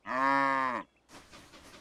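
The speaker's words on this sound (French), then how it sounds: "Les tracteurs, ça fait meu? Non, mais les vaches, oui." A cartoon cow lets out one long, steady, tonal moo lasting almost a second, loud and close, followed by a soft hiss of background noise.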